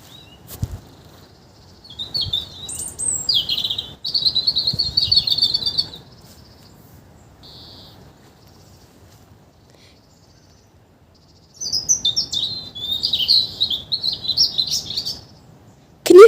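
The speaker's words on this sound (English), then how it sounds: "Can you hear the birds?" Birds chirp and tweet in two bursts of high, quick calls, a robin among them, with quiet pauses between and faint low background noise.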